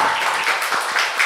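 An indoor audience at a poetry book premiere claps steadily and densely, a close, continuous wash of applause without pause.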